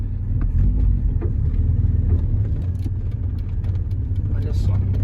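A warm Volkswagen Passat 1.6 engine with a Weber 450 carburetor runs with a steady, close low rumble and some uneven knocking. A voice talks over it now and then.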